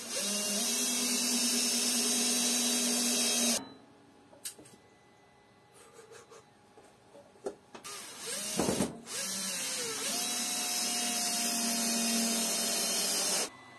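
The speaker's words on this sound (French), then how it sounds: "Et on n'a plus qu'à visser." A power screwdriver drives screws to fasten boards while building a workshop storage cabinet with cubbies, whining loudly in two long steady bursts with a quieter stretch of clicks and handling noises in between.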